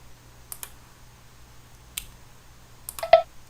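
Mouse clicks in Autodesk Inventor while applying a constraint, heard as a few quiet, sharp clicks spaced apart, one pair early, one near the middle and a slightly louder cluster at the end, over faint low hum.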